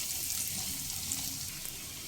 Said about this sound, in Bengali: কয়েক সেকেন্ড নেড়ে নেব আদা রসুনের কাঁচা গন্ধটা চলে যাওয়া পর্যন্ত একটু ভাজা ভাজা করে নিতে হবে